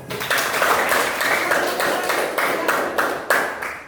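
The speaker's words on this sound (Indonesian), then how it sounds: "Oke, kasih aplaus." Classroom group applause, many hands clapping steadily and fairly loudly for about four seconds with no talk, pulsing in bursts before a final louder flurry.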